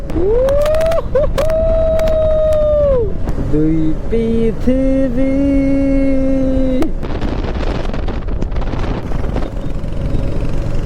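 Royal Enfield Hunter 350 motorcycle exhaust: a loud, close engine note that climbs, holds, then drops to lower steady tones before breaking into a broad rough roar.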